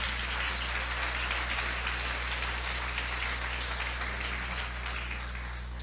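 A church congregation applauds God together, sustained dense clapping at an even level over a steady low hum for several seconds, with no voices on top.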